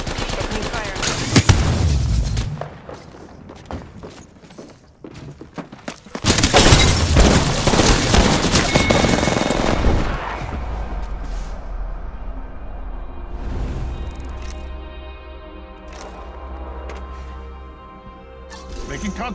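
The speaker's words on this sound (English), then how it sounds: "Opening fire." Loud rapid gunfire bursts from an Apex Legends firefight, dense volleys and booms around the start and again mid-clip, easing into quieter scattered shots and a lingering hum.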